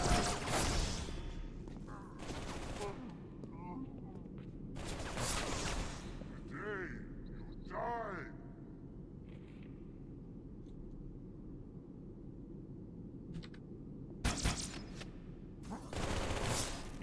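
Bursts of rapid SMG fire from Halo 2 gameplay crackle in short volleys at the start and end, with quieter game effects and a voice heard between them.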